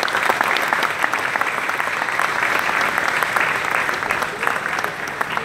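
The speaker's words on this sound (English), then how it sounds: "Give him a big round of applause," A big round of applause from the audience at a business conclave as a guest is called to the stage, sustained crowd clapping at a steady, fairly loud level, with some voices mixed in.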